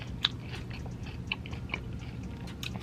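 Crunchy bites into a Wingstop bone-in chicken thigh: close, crisp crackles and munching, with a few sharper crunch peaks over steady chewing and no talking.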